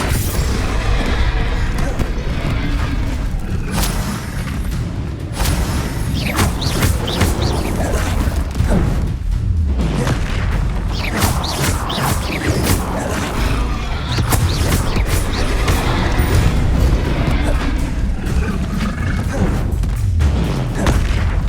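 Repeated Confringo fire spell explosions in Hogwarts Legacy, loud booms and crackling blasts layered continuously through a chaotic battle, with other spell effects and scattered voices.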